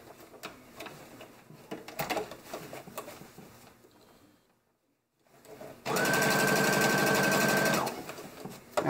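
A sewing machine stitches a leg seam on high-waisted shorts in one steady, fast run of about two seconds, preceded by quieter handling clatter and a brief silence.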